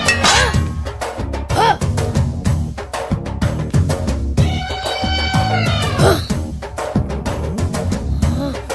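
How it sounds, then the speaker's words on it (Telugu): A phone ringtone of children screaming plays loudly in a comedy film scene, with repeated high wailing cries rising and falling over busy background noise. "ఈ రింగ్ టోన్ విన్నావా? ఇది పిల్లల అరుపు."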